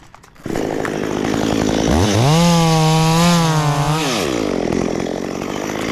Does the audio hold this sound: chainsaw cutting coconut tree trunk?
yes